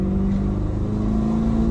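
A Chevrolet Corvette C8 fitted with a titanium exhaust gives a steady, loud, close engine drone with a deep rumble. It builds gently at low road speed rather than a hard rev.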